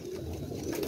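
Soft, low cooing of home-bred pearl pigeons close by, a brief throaty warble with no voices.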